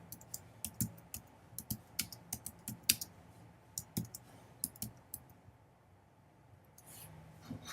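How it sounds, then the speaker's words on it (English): Irregular clicks of keys on a computer keyboard, a quick burst of close taps with brief pauses, fading near the end. "Alright, so now I'm going to go ahead and I'll type."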